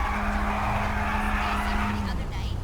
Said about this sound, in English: why is this guy revving up?